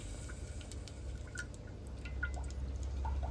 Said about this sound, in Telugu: ఆయిల్ ఎక్కువ పోసుకుంటున్నాం